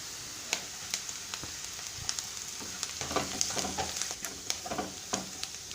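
Batter for kuzhi paniyaram, made from leftover idli batter with coriander leaves added, fries in a pan with a steady crackling sizzle, punctuated by sharp pops and spatters throughout, close and alone without speech.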